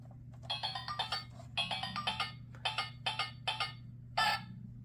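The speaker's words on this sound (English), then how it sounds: "He gives Lowly some sheet music and a box full of handbells." Handbells chime from an interactive Christmas sound book, a rapid series of bright, ringing strikes in quick bursts, close and clear with a faint electronic hum underneath.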